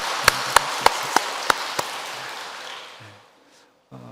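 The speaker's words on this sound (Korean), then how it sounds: "우리 하나님 앞에 영광의 박수 한 번 더 올리도록 하겠습니다." Congregation applause during a Korean Protestant Sunday worship service at Onyang Jeil Church, a dense wash of clapping with a few sharp louder claps standing out, fading away over the last second into near silence.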